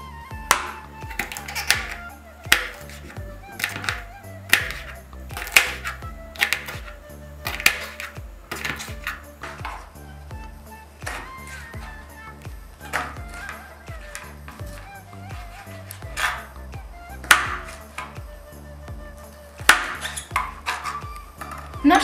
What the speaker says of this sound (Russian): Теперь вот таким образом нарезаем наш перчик.